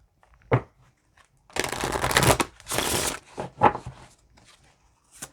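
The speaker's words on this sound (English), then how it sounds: "That was a real good shuffle." Cards being shuffled nearby: a quick riffle, a longer burst of flicking cards, then a few softer taps as the deck is squared.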